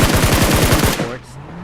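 Automatic fire from the PUBG Mobile shooter game comes as a rapid burst of about a dozen evenly spaced, loud shots that stop abruptly and leave a quieter tail.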